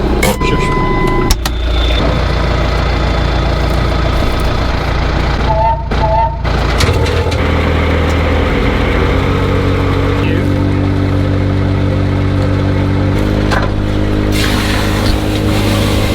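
A vacuum tanker truck's engine runs steadily and loudly at a blocked drain, a constant mechanical drone with a high-vac pump sucking the blockage into the tank, as people talk at times over the noise.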